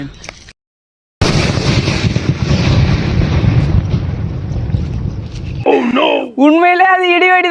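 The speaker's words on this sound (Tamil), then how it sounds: "உண்மையிலே அது இடி வெடி தாங்க, செம்ம சவுண்டு" An idi vedi firecracker goes off with a sudden, heavy blast that rumbles and decays over several seconds, loud and close, followed by shouting voices.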